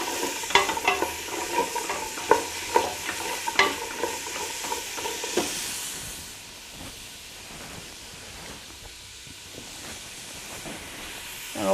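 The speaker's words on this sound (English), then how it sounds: "you just want to be gently sauteing to bring out the flavours" Vegetables for sweet corn soup gently sautéing in a pan, a soft continuous sizzle under repeated scraping stir strokes that fade into a quieter steady hiss.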